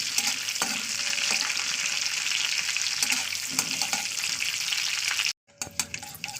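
Vegetables fry in an oiled kadai with a steady, close sizzle, punctuated by light clicks and scrapes of stirring; the sound cuts out abruptly near the end, then returns more quietly.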